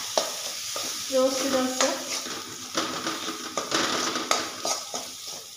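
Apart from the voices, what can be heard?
peanuts being sautéed and stirred in a pan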